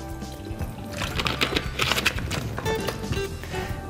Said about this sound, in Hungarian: de ezzel még csak lehűtjük a poharat körkörösen mozgatva, benne a vízzel szépen le fog hűlni